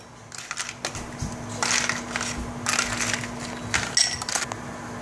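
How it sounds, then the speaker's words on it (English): Ice cubes from a Dometic HZB-12SA portable ice maker dumped into a 16-ounce glass, several bursts of hard clattering and crunching as cubes tumble and knock together, close and fairly loud. "we filled up a 16-ounce glass of ice cubes to the top"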